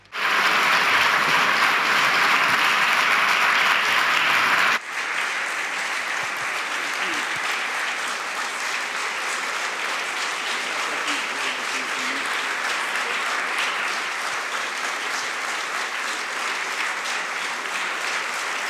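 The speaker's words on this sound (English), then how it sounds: "A well-deserved round of applause." Audience applause after a speech at a Berlin forum, a dense, loud, steady clapping that fills the hall, easing slightly after a few seconds and continuing evenly to the end.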